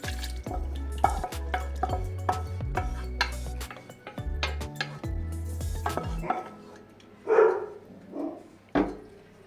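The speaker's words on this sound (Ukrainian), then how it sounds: "Тепер даємо на дно казана наші овочі підсмажені і підтушені." Fried and stewed vegetables are tipped into the bottom of a cauldron for Bavarian-style pork knuckle, making a series of sharp metallic clanks and scrapes of a utensil against the pot, followed by a few softer thuds.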